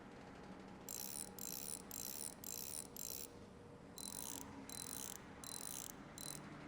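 Wheel bolts being removed in the game Bus Mechanic Simulator, a series of quick mechanical ratcheting bursts, about nine short clattering spurts in a regular rhythm, crisp and close over faint background hum.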